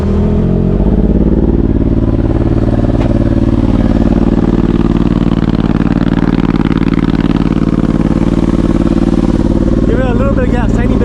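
A Ford Maverick fitted with an RPM sport muffler, set to Sport Plus mode, gives a steady, loud, droning exhaust rumble as light throttle is applied, holding close and constant throughout with a brief rise near the end.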